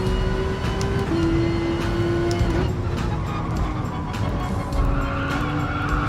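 Porsche 911 RSR race car at Brands Hatch in Gran Turismo Sport, with a steady loud engine drone that shifts pitch as revs are managed and tires squeal briefly, continuous throughout with no talk.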